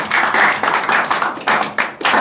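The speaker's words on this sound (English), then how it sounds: "Let's give an applause to Christ for all you have done." Church congregation applauding together during a Men's Day service, a dense, steady patter of many hands clapping close by with a few sharper bursts, no talk over it.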